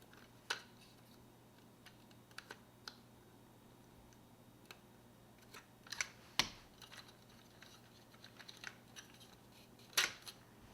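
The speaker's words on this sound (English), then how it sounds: "you just pop them out after you give it a little pressure from the flathead screwdriver" A flathead screwdriver pries parts out of a vintage 1983 Kenner Star Wars Y-Wing toy, giving faint plastic ticks and clicks followed by a few sharper pops and snaps in a quiet room.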